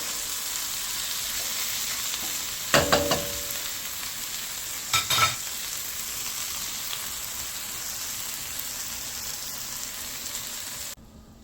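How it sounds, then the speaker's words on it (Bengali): Small kechki fish fry with eggplant in a pan, a continuous loud sizzle with two brief bursts of scraping as the food is stirred, then it cuts off abruptly at the end. "ভাজা ভাজা হয়ে গেছে কেচকি মাছটা।"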